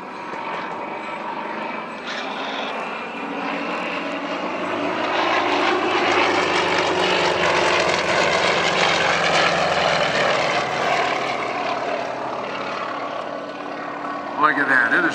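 Red Thunder air show team propeller planes dive at the Courtland Air Show 2011, engines roaring loud and swelling to a sustained peak as they pass, with a sharp burst near the end.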